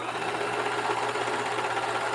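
A sewing machine stitches a quarter-inch seam on a flowered quilt, a steady close whirring hum running without pause throughout, with no talking.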